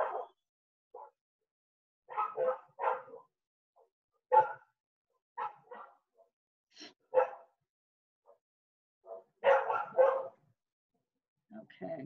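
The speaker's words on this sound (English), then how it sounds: "excuse my dog is barking." A dog barks in short, scattered bursts somewhere indoors, well apart from each other with silent gaps, while a person briefly speaks.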